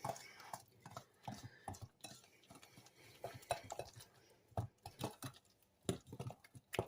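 Cookie dough being mixed with eggs added one at a time for chunky chocolate chip cookies, heard as repeated soft scraping and clinking strokes of a utensil against a bowl in an irregular rhythm, close and fairly quiet.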